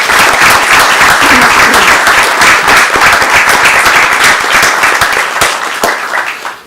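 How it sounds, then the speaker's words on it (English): A school board meeting audience gives a steady round of applause as a Korean Catholic community center group is called up. Dense, loud clapping fills the room without a break and starts to fade only at the very end. "let's give them a warm round of applause"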